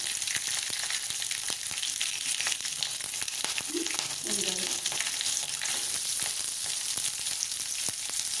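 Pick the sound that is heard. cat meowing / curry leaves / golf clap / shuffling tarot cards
curry leaves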